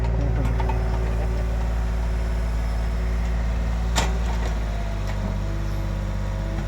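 A Yanmar 50 hp diesel engine in a Kobelco SK50 mini excavator, fitted with a toothed bucket for hard soil, idles nearby with a steady, loud, continuous rumbling hum and one brief click.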